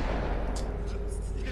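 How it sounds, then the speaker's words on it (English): Rapid gunfire from The Walking Dead video game, dense and continuous through the whole moment with sharp bursts over a steady rumble, while a voice talks beneath it. "I hear mad gunshots."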